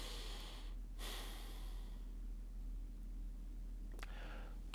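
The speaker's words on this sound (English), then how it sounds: "Take a deep breath." A slow deep breath taken during guided relaxation, a soft breathy inhale followed by a long faint exhale, with a brief second breath near the end over a low steady hum.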